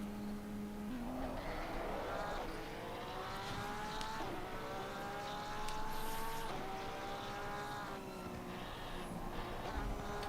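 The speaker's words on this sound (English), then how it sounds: "Hold your throttle, start the engine." Race car engine in Assetto Corsa Competizione during a wet race, droning loud and steady with rising gear-change sweeps and shifts, a continuous mechanical roar throughout.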